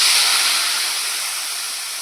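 Onions added to hot oil with curry leaves, mustard seeds and cumin burst into a loud, hissing sizzle that eases slowly as it settles, close and heard alone.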